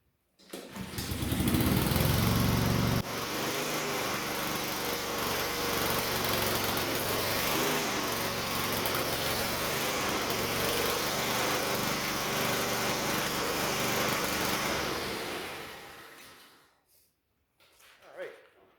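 A grubby old Honda GCV160 Quadra Cut lawn mower engine fires up with a loud burst, then settles into a steady close running drone for about twelve seconds before shutting off and sputtering.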